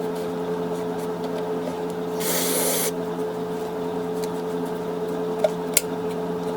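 A short hiss of CRC contact cleaner sprayed on the electrical parts of a Suzuki TC185 dirt bike, one burst of under a second over a quiet background hum, followed by a couple of faint clicks.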